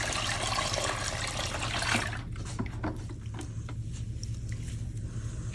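Water splashes and patters steadily as it is poured into a dye pot for acid-dyeing wool. The pour is loud and continuous at first, then thins into softer trickles and drips.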